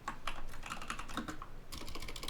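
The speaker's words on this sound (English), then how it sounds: "I'm still trying to use keyboard." Rapid typing on a computer keyboard, a steady clatter of close, crisp key presses with a brief lull near the middle before the tapping picks up again.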